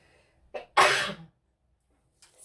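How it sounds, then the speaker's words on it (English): A single loud, close sneeze bursts out alone amid a quiet indoor craft session, with a softer breath or sniff before it and a faint rustle afterward. "I think I'm going to sneeze."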